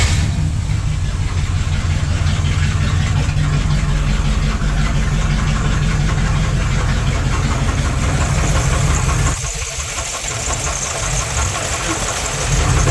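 A 360 cubic inch engine idles loud and close with a steady low rumble and faint rapid knocking from within the block, then briefly dips and changes tone near the end.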